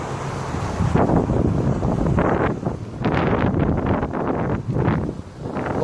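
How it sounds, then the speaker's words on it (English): Strong wind buffets the microphone in loud, rumbling gusts that surge and ease, with no voices. "it's really windy right now"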